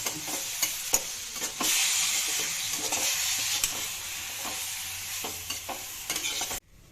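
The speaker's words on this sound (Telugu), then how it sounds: "ఇప్పుడు అంతా మిక్స్ చేసి ఇదంతా బాగా మిక్స్ చేసుకోవాలి." Tamarind and jaggery mixture stirred in a pan, a soft sizzle with repeated scraping strokes of a spoon, close and fairly quiet, ending abruptly.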